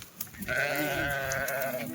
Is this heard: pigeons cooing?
no